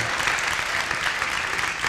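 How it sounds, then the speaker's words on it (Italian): Audience applause at an Italian event, a dense steady clapping from a crowd, continuous and fairly loud for the whole stretch. "le donne Anche hanno fatto partire l'applauso"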